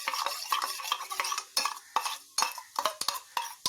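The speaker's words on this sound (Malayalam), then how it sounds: "1 സ്പൂണ് പൊടി, 2 സ്പൂണ് വെള്ളം ഒഴിച്ചിട്ട് നന്നായിട്ട് കലക്കിയെടുത്താൽ മതി" A spoon stirs a thick chickpea flour and water paste for a Kerala-style egg roast, giving close, repeated scraping and clinking against the bowl in an uneven rhythm.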